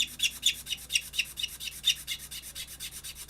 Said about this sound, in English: let's use the bigger cousin here, the bastard file